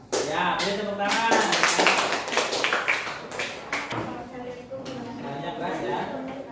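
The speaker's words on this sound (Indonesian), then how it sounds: "Ya, beri tepuk tangan." A classroom of pupils clapping their hands together, dense overlapping claps with children's chatter and voices mixed in throughout, fairly close and loud, the applause fading somewhat toward the end.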